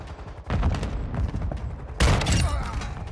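A shotgun fitted with a sniper slug fires in a video game, bursts of booming shots in two clusters, loud and close against dense action noise.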